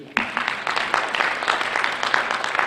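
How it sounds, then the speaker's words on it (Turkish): An audience at a conference on intelligence and talent applauds primary school teachers, a dense, steady clapping that starts abruptly and carries on throughout. "Ben onları bir alkışlayalım istiyorum"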